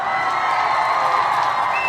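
A crowd cheers and claps in a sustained, fairly loud wash of whoops and applause that holds evenly for a couple of seconds.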